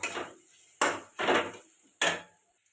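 Spices being stirred in a pan for Bengali egg curry: four distinct scraping, clattering bursts of a utensil against the pan in an uneven rhythm, close and fairly loud, with no talking.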